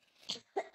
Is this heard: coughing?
yes